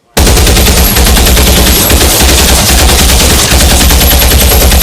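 Soldiers' rifles fire in a continuous loud, dense volley, shots rattling together without pause for several seconds in a historical war movie scene.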